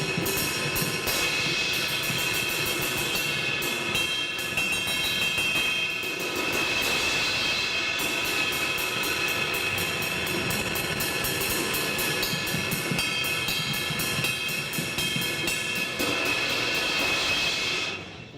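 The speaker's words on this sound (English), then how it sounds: "This one is a 26-inch, and it doesn't sound like a big gongy." A 26-inch Soultone cymbal rings out in a long, continuous wash of dense, shimmering tone, struck repeatedly and sustaining loudly throughout with no voices.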